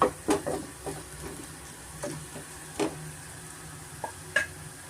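Tomatoes stirred into onions, ginger and garlic frying in a pan for tomato kurma, with a soft sizzle under scattered spoon scrapes and taps at close range.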